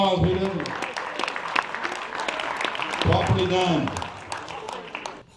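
A crowd at a wildlife fundraiser auction applauds after a lot is sold, clapping mixed with cheering and talk, loud and sustained before fading out at the end.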